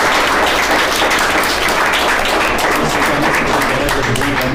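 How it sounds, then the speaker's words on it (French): Steady, dense applause from an audience at a quiz match for engineering-school players, loud and continuous with no talk over it. "On va vous applaudir maintenant."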